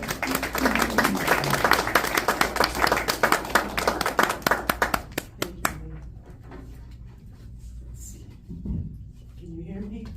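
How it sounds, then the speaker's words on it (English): Audience applause welcoming an author at a Women Writing the West reading, dense clapping that fills the first half and then thins to a few scattered claps before a voice speaks quietly near the end. "Let's give Heidi a warm welcome."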